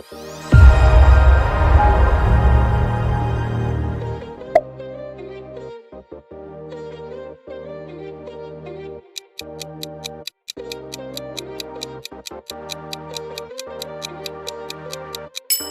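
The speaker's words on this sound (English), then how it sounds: "That is Discovery Plus." Discovery Plus streaming logo sound: a loud swelling musical chord that fades, then a lighter rhythmic ticking, clock-like pattern with steady pulses continuing to the end, no voices.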